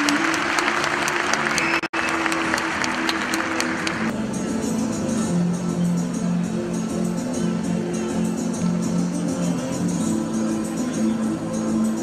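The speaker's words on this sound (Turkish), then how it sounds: "Güçlü alkışlarımız var." An audience at a civil servant appointment ceremony applauds steadily and loudly for about twelve seconds, a dense, even wash of clapping from a large crowd.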